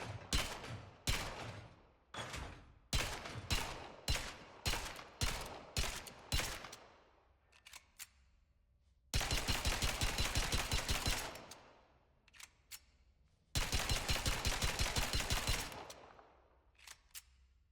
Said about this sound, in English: we have the M2 Carbon. It's honestly a really good pistol